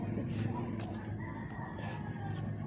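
A rooster crows amid a noisy farmyard, with chickens clucking steadily in the background at moderate distance.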